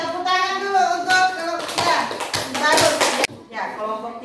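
Schoolchildren in a classroom clapping their hands for a discussion group, a burst of scattered applause swelling then cutting off, with kids' chatter and a teacher's voice over it.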